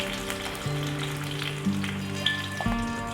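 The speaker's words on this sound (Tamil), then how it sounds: "நல்லா வதக்கி எடுத்துக்கலாம் ஃப்ரெண்ட்ஸ்" Onion, carrot and green chili sautéing in a pan with garlic, a steady soft sizzle and crackle throughout, close and fairly quiet, with occasional light stirring clicks and no talk.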